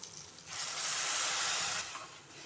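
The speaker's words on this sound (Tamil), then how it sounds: "ஒரு லெமன் சைஸு புளி எடுத்து நான் கரைச்சி இதை வடிகட்டி வச்சுருக்கேன் அப்போ இதில் சேர்த்துருவோம்" Strained tamarind water poured into a hot pan of sautéed sambar ingredients, giving a rising broadband hiss and sizzle that holds steady for over a second, then tapers off, close and fairly loud with no talking.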